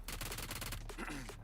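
P90 submachine gun fire in PUBG Mobile during an esports match, a rapid stream of automatic shots rattling for about a second before tapering off, with a brief gap and a few trailing game sounds.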